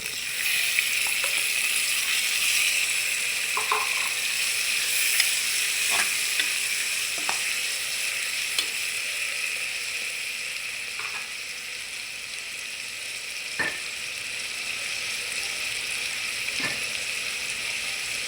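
Tomatoes sauté in a pan with onion and garlic, giving a steady, close sizzle with occasional soft stirring scrapes and ticks, and no voices over it.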